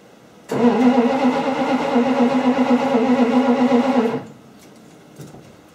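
A 1955 Studebaker engine cranks and catches, then runs with a loud, steady, droning idle for about four seconds close by before cutting off abruptly, leaving only faint background noise.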